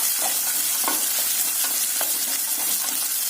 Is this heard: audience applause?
no